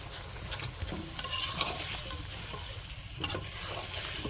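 Beef pieces and potatoes cook in a spiced masala in a pot over a strong village fire, a soft steady sizzle broken by several scraping stirs, with no talking.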